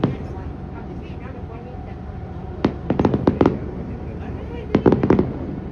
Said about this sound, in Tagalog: Oh, paputok pala siguro yung mga doon ante kanina.